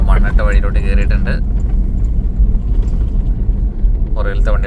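A vehicle on a Sydney to Cape York road trip leaves a tar road for a dusty dirt track, giving a loud, continuous low rumble, with a person talking over it at the start and again at the end.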